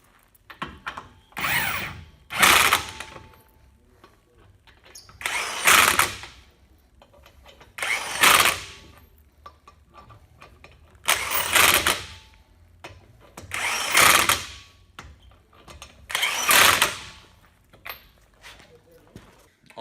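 Porter-Cable PCC740B 1/2-inch cordless impact wrench removing lug nuts, firing in about seven separate bursts of loud rattling hammering, each a second or so long with quiet gaps between.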